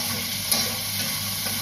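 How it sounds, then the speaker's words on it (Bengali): Onions sizzle in oil with garam masala for murighonto, a fish-head dish, giving a constant close hiss with one faint clink partway through. "মুড়িঘণ্ট রান্না করার জন্য পেঁয়াজ ভাজা হচ্ছে আর গরম মশলাও ভাজা হয়েছে"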